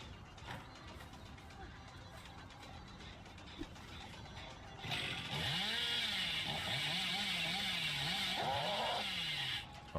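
The Hillbilly's chainsaw in Dead by Daylight snarls to life halfway through, a loud sustained rev with the engine pitch swooping up and down for several seconds before cutting off, after quieter game ambience.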